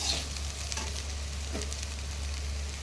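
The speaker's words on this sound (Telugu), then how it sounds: "ఇప్పుడు మూత తీసి కలుపుకుంటున్నాను" Meal maker curry being stirred in a pan after the lid comes off, a quiet sizzle with a few soft scraping strokes of a spoon over a steady low hum, no talk.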